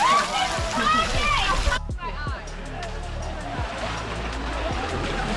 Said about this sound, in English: Time to splash them.